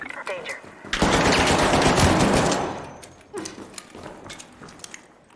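Loud, close burst of automatic gunfire in a shooter video game, a sustained volley lasting over a second followed by scattered shots, with a player talking around it.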